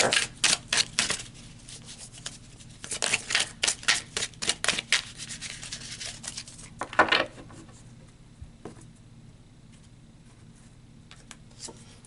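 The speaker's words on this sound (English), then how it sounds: "Let's pull some more cards and see what else is going on here." A tarot deck shuffled and cards drawn, heard as clustered bursts of rapid papery riffling and flicks, close and fairly loud, then trailing off into quieter sparse handling sounds with no one speaking.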